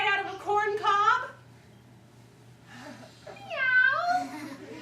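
A storyteller's voice imitates a cat, giving two drawn-out, wavering meows separated by a short pause, heard close and clear over a faint steady hum.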